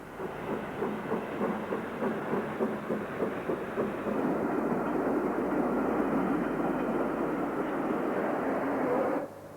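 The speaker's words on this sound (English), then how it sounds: "this down express behind a King-class locomotive was bound for Birkenhead" A 1950s steam express hauled by a King-class locomotive, bound for Birkenhead, rumbles past in a steady, loud roar with rhythmic wheel beats that thicken midway and then cut off abruptly near the end.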